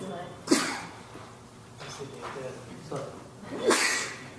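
Two sharp sneezes, about three seconds apart, each a sudden explosive burst of breath, with quiet murmuring room noise between them.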